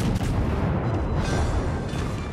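Naval cannons fire armor-piercing shells in World of Warships, a dense sustained rumble of heavy gunfire and booms filling the whole span, loud and continuous with no talk over it.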